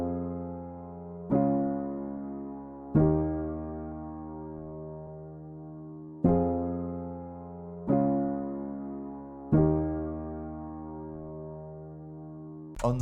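Simple sustained piano chords from an FL Studio beat, dry and unprocessed, struck one at a time at a slow pace with each chord ringing out and decaying; no voices.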